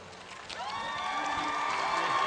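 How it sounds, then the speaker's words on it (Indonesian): A television studio audience breaks into applause and cheering for Gus Ipul and Pak Dekarwo, building from quiet to a sustained, lively roar with whoops. "Kita kasih tepuk tangan pasangan berkumis, Gus Ipul dan Pak Dekarwo."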